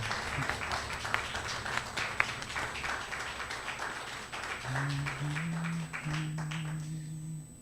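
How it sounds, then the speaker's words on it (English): Congregation at a Sunday church service applauding the practitioner and the musicians, a warm round of clapping that thins out as a sustained soft musical tone rises underneath toward the end. "let's give our practitioner, Craig Lozzi, and the music a big round of applause."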